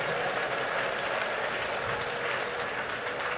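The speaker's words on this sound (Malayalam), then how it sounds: "ഉച്ചത്തിൽ നന്നായിട്ട് കൈയടിച്ച്" A church congregation at a deliverance prayer service claps loudly together, forming a steady, dense wash of hands that stays even and somewhat distant throughout.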